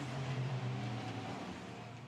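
Formula Regional race cars run at the Spa-Francorchamps circuit. A steady, droning engine tone comes from the pack bunched together in the middle sector and holds at a constant distance throughout, with no talking.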